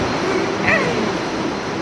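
A passenger train bound for Kalyan picks up speed, giving a steady rumbling roar from inside a carriage. A brief squeal rises above the rumble, and faint voices sit in the background.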